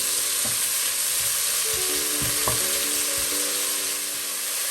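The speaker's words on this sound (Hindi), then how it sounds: "अब इसमें ऐड करेंगे टूना फिश 150 ग्राम। अच्छी तरह मिक्स कर लेंगे।" Canned tuna, 150 grams, being stirred into a pizza filling in a bowl, a steady soft hiss with several scraping, knocking thumps of the utensil, close and without talk.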